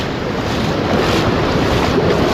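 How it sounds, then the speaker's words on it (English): River water flows steadily on the Blue River, a loud, dense, continuous rush heard close to the bank and roughened by wind buffeting the microphone. "The water is flowing really nice, really clear."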